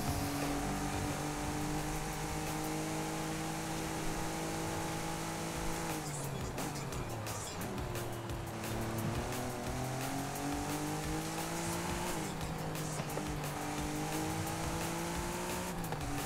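A Noble M400 lapping a track in Forza Horizon 5, its engine a loud, steady drone rising and falling in pitch through gear changes and corners, with brief dips as the car slows and accelerates again.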